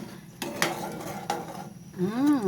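Sugar-coated peanuts caramelizing in a pan being stirred with a metal utensil, with scraping strokes and sharp clinks against the pan, close up, under a faint background sizzle and a brief whistling tone at the end.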